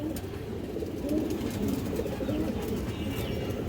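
A pair of natural red-geared pigeons, male and female, give soft repeated coos, faint and close, over a low background hum.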